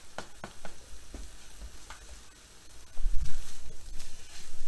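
Garlic, ginger and chopped green onions sizzle in a hot pan, with a steady frying hiss, scraping stirs and a louder burst of sizzling partway through.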